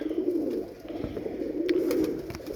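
Roller pigeons cooing in a loft, a soft steady low murmur of overlapping coos that continues throughout, with a few faint higher chirps near the end.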